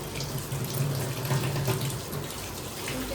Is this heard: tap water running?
yes